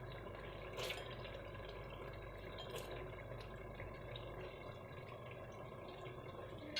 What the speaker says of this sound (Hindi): ये हमने दाल डाल दी।